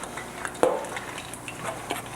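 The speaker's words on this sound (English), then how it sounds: "So I take more flour, mix it in." Flour being stirred into a thick roux-style paste in a pot for Southern vegetarian home cooking, a soft scraping stir with one sharper clink of the utensil against the pan, close by and alone.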